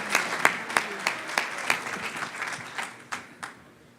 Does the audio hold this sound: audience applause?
yes